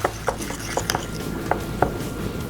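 Cream cheese being stirred together with taco seasoning in a bowl, giving a steady run of soft scraping and tapping utensil strokes at close range, with no talk.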